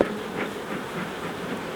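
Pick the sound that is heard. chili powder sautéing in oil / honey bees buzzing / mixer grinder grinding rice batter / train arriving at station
honey bees buzzing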